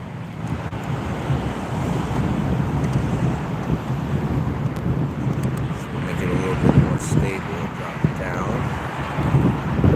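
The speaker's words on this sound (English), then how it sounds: "A little shaky, sorry, it's a little windy out." Steady wind buffets the microphone throughout, a continuous low rumble with outdoor noise, and faint talking mixed underneath.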